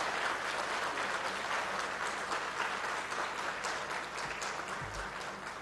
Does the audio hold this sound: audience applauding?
yes